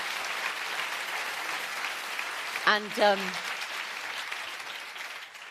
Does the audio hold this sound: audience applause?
yes